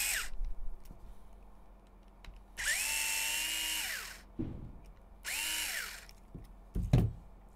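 A handheld power driver unscrews the link mount screws of an HPI Venture RC kit in two short whirring bursts that rise and fall in pitch, separated by small clicks and parts being handled nearby.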